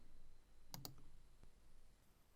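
A single quiet mouse click, a quick double tick, as the Create Project button is pressed in a software tutorial, alone against faint background hiss.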